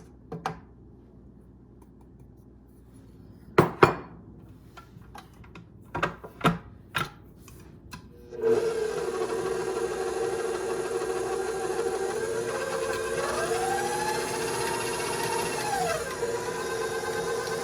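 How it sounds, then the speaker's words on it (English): A few scattered knocks and taps come first, then a stand mixer starts up on medium speed, mixing a loose, shaggy dough with a steady whirring motor hum that holds to the end. "we're going to mix it on medium speed until a loose, shaggy dough forms"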